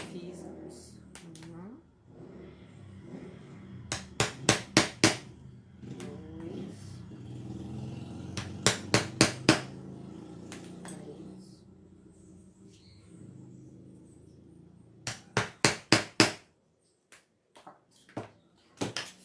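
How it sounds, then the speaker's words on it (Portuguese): A hammer drives a punch through paper to make sewing holes for Japanese stab bookbinding, the sharp taps coming in three quick bursts with quieter handling between them. "E faço o furo da mesma forma que eu fiz antes."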